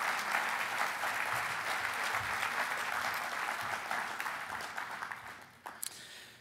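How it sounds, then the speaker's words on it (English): Audience at an annual golf course owners' business meeting applauding, a sustained dense round of clapping that gradually thins and tapers off toward the end. "But I would just like to get a round of applause for Matt."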